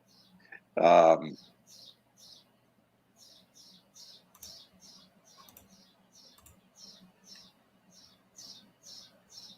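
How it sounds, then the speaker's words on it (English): A small bird chirps repeatedly just outside a window, with short, bright, evenly spaced calls running throughout after one loud thump near the start. "And somebody has a chirping bird."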